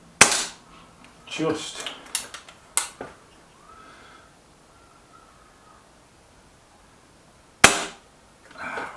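BSA R12 SLX air rifle firing pellets outdoors, several sharp cracking shots spaced irregularly with a loud final report, brief speech between them.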